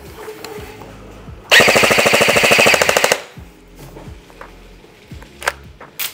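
Airsoft MP5 AEG (Virtus XI with MOSFET) firing a single loud full-auto burst of about a second and a half, a fast even stream of mechanical shots, alone with quiet handling noise before and after.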